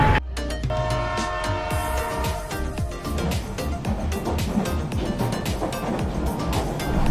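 Upobon Express passenger train on the Dhaka–Sylhet line rumbles steadily with rhythmic clacking of wheels over rail joints and the rattle of carriages, the sound held at a constant moderate level.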